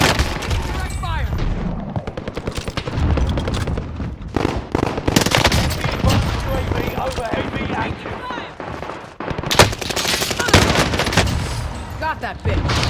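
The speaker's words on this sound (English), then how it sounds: "Shooting. I'm getting hit." PPSh submachine gun fire in the shooter game Warzone Pacific, with rapid, dense bursts and chaotic combat noise throughout. A player talks over the gunfire.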